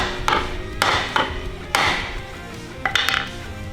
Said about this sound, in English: Now next job is put the bearing buddy back in. Just push it in, grab your hammer,